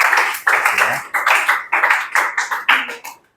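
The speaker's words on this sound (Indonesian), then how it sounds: "beri aplaus buat kelompok 3" Audience applause for a presenting student group in a classroom, a dense burst of clapping in several surging waves that fades out after about three seconds.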